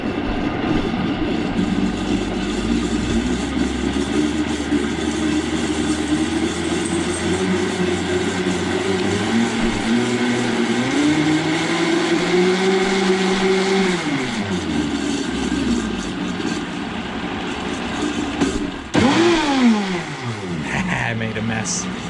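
A Vitamix blender motor whirs loudly and steadily, its pitch rising and falling as speed changes, then surging near the end with water churning inside.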